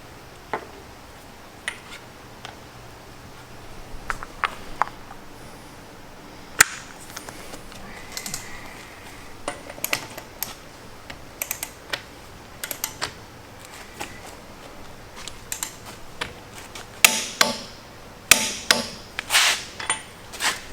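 Sharp, close impact hammering from a Milwaukee M12 stubby 1/2 inch impact wrench during a torque test, coming in short irregular bursts over a quiet background that grow denser and louder toward the end.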